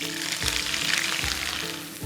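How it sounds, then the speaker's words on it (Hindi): Onions fry in a pan with boiled mutton, a steady close sizzle with soft scraping stirs, no talk. "और प्याज को बढ़िया से भूनना है हमने"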